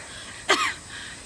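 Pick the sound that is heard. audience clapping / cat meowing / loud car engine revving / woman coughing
woman coughing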